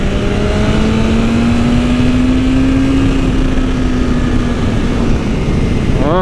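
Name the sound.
BMW S1000RR M motorcycle engine while riding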